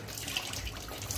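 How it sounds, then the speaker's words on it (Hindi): Water pours steadily from a tap while someone washes their face. The splashing rush is continuous and close, and no one speaks. "और ये आर्पिट है जो मुंह धो रहे हैं अपना इस टाइम में,"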